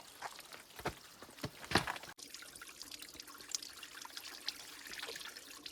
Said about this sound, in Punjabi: ਰਸਤੇ ਦੇ ਵਿੱਚ ਸਾਨੂੰ ਪਹਾੜੀ ਤੋਂ ਪਾਣੀ ਆਉਂਦਾ ਦਿਖਾਈ ਦਿੱਤਾ